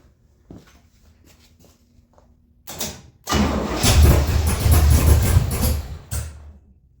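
A Gasser car engine with a tunnel-ram intake and carburetor gives a short crank, then catches and roars loudly for about three seconds before dropping off with a thud. A faint hum and clicks come before it.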